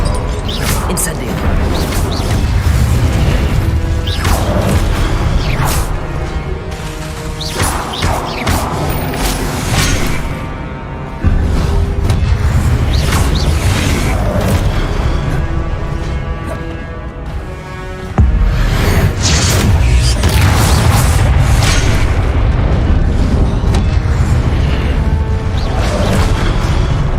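Incendio fire spell cast again and again in Hogwarts Legacy, with loud whooshing blasts and crashes in dense waves over a constant wash of game sound, along with some talking.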